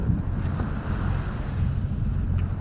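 Strong gusty wind rumbles across the microphone, a constant low roar with buffeting bursts, heard alone and close.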